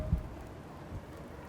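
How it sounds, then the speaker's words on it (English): Soft rain patters in the video game Spirit Hunter: Death Mark, a faint, even hiss with no voices or other sounds. "A soft pitter-patter of rain permeates the area."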